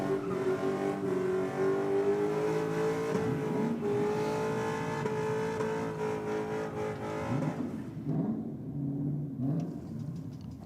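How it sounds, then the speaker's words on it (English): VS Commodore race car doing a strong burnout at a drag strip, a loud sustained engine roar with rising and falling revs and tyre noise that fades toward the end, with no talking. "nice big strong burnout from the VS Commodore"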